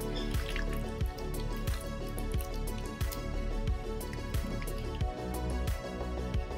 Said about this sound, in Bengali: ভালো করে আদা রসুনের পেস্টটাকে আবারও মাংসের গায়ে ভালো করে লাগিয়ে নিচ্ছি।